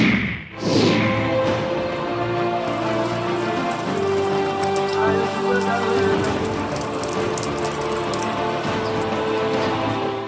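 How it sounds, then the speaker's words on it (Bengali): Steady heavy rain falls continuously on surfaces during a low-pressure spell in Bengal, a dense, even patter with occasional thuds, lasting throughout with no talking. "কয়েকদিন আগে নিম্নচাপের জেরে টানা বৃষ্টি।"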